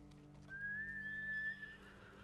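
A horse in the video game Ghost of Tsushima gives a single short whinny, faint and alone over a quiet background hum.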